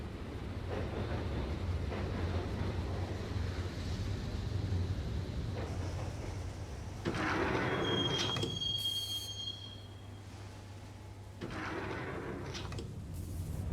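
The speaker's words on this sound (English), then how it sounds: "the train doors had already shut behind me, and I was in for the ride" Max Payne video game train ride to Roscoe Street Station: steady rumbling rail noise with wheels clacking, a sharp high wheel squeal near the middle and a brief lull before the rolling resumes; no talking.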